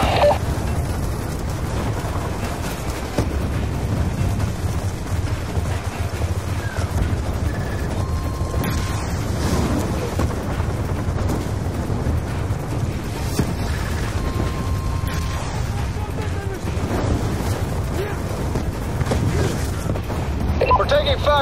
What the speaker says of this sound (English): We're taking fire from the gunships right above the base.